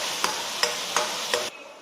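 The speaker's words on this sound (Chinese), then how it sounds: "继续翻炒，让它这个酱汁更加的明亮" Sauce stir-fried in a wok after white vinegar and a few drops of oil are added, with four evenly spaced scraping strokes of a spatula over a soft sizzle, close and fairly loud, then sudden quiet.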